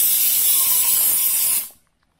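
Degreaser cleaning solvent sprays from an aerosol can onto a Ford Cortina MK3 car radio: one loud, close hiss lasts about a second and a half, then cuts off into silence.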